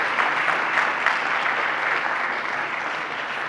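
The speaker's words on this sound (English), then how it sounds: "Give them a round of applause." An audience at a mutual funds launch event claps steadily and fairly loudly throughout, a dense even wash of applause with no talk over it.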